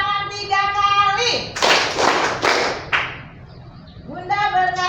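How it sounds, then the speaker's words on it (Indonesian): Classroom children clap their hands in unison three times, sharp group claps spaced evenly between stretches of a woman's sung or spoken instructions heard before and after. "Bunda berkata, tepuk tangan 3 kali."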